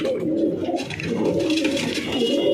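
Low, throaty cooing from a pigeon at a backyard loft of flying pigeons, a steady rolling murmur against a noisy background, with no speech.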